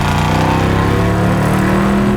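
A Mustang Shelby GT350 V8 revs hard on a downshift, a loud, deep, continuous engine roar heard from close by with no voices.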